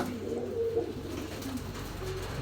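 Female pigeons kept for sale coo close by in a low, warbling murmur that rises and falls over a quiet background.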